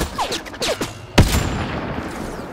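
A few sharp gunshots crack out in quick succession in Mass Effect Andromeda at the Kett base on Eos, followed by a louder blast with a rumbling tail, all fairly close with no talking.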